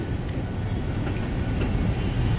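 A freight train with box cars rolls past close by in a continuous heavy rumble and clatter, steady and loud with faint squeals above.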